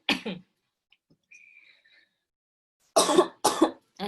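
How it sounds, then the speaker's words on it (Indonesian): A short burst of coughing, a quiet pause with a faint background tone, then two or three more harsh coughs close to the microphone. "saya agak batuk"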